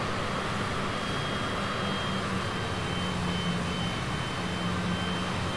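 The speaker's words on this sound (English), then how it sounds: "They don't sound as smooth as I would expect jet engines to sound" A steady, dense roar of Cessna Citation CJ4 jet engines in Microsoft Flight Simulator, loud and unchanging throughout, with a faint uneven hum beneath it.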